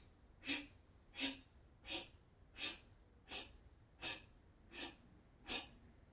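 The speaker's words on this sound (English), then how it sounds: "Remember, exhale is forceful, inhale is automatic." Eight forceful exhales from a yoga breathing exercise, evenly spaced about every 0.7 seconds, each a short sharp breath through the nose, close and fairly quiet, with no talking.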